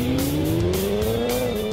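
A Yamaha R1 sport motorcycle engine roars in a racing video game, a steady high-revving whine climbing smoothly in pitch over a short burst, loud and close.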